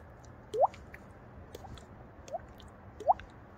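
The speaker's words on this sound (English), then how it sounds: "the water drop noise" Water drops in an aquarium make three distinct bright plinks, near and fairly clear, spread about a second apart over a soft steady background hum.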